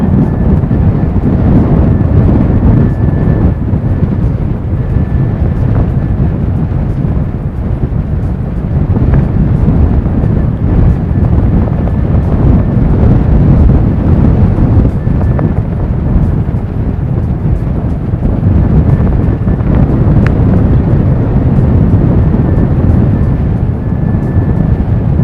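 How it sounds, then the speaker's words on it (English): Strong outdoor wind buffets the microphone with a loud, continuous low roar that swells and eases for the whole stretch, during plane spotting in rainy, stormy weather. "Battling a bit with the wind."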